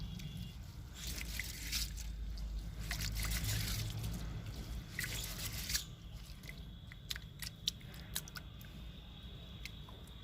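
Rice and moong dal being rinsed in water by hand, soft close trickling, sloshing and squishing with a few sharp clicks of the vessel, faint and alone.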